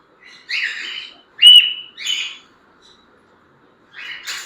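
Pet shop lovebirds and cockatiels, including breeding pairs, give a few sharp chirps and short calls in separate bursts with near-silent gaps between them, fairly close and without talk.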